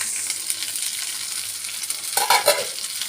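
Okra being stir-fried and mixed in a pan, a bright steady sizzle with close scraping and stirring strokes that grow louder near the end, no voices.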